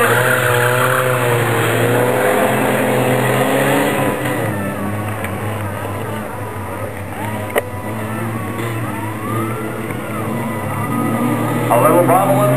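Race cars roar down the front stretch at Flamboro, a dense blend of engines revving and shifting pitch as the pack passes close by, with a sharp knock near the end and talk underneath.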